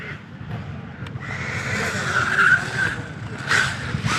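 A small MJX 14303 Citroën RC rally car does a full-throttle burnout, its tires skidding in a steady, whining scrub that swells and wavers for several seconds, close to the listener over a rough background rumble.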